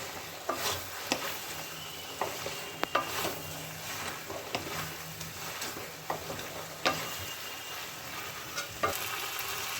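Vegetables including pumpkin, potatoes and broad beans being stirred and fried in a pan, a constant sizzle punctuated by repeated sharp scrapes and taps of the spatula, close and moderately loud.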